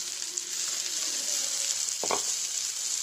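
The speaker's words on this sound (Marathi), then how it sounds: "कांदे चांगले भाजून घेते बरं." Chopped onions fry in a pan for paneer bhurji, giving a steady, close hiss of sizzling oil with a brief stir or scrape partway through.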